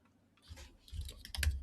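Quiet clicking and tapping on a computer keyboard during a live digital sculpting session, a loose run of small keystrokes growing slightly louder and busier toward the end, with no talk.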